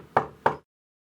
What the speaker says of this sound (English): I heard a knocking at my door.